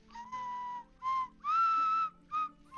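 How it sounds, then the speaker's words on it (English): An eerie whistled melody in sustained, wavering notes, with several phrases separated by short pauses, clear and fairly close over a quiet background. "I hate the whistle."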